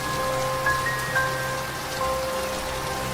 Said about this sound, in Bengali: প্রবল বৃষ্টিতে